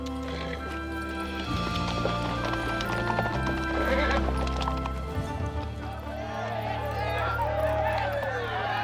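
Several horses in a Western setting clip-clop and whinny, their hooves thudding steadily beneath layered music and low voices throughout.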